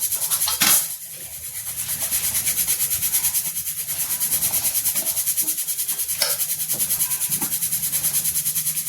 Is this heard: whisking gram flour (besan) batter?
yes